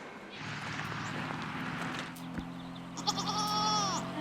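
Sheep on a farm in the middle of Lithuania bleat close by, one long wavering call rising over a low rumble of background noise, with a few scuffs and knocks between cries.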